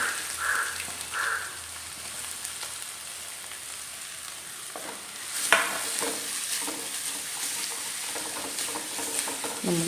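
Chopped onion frying in coconut oil in a pan, with mustard seeds already in, gives a steady soft sizzle throughout, with a brief louder clatter midway as the pieces are stirred.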